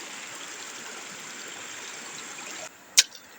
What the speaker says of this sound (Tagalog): Ito nga pala ang ilog ng Pansol.